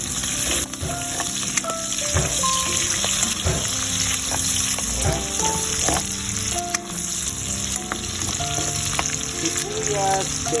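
Onion and garlic sauté in a pan as a base for a pork dish with eggplant and bitter gourd, giving a steady close sizzle with scattered stirring clinks and utensil knocks throughout.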